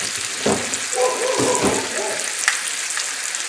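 Chicken thighs coated in a garam masala and azafran mix frying in a pan over a moderate flame, a steady close sizzle with a few brief stirring bursts.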